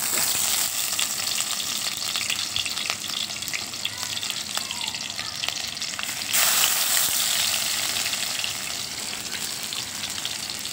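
Dried red chillies fry in hot oil in a pot over a wood-fired clay stove, with a steady loud sizzle and crackle, a brief surge partway through, and no talking.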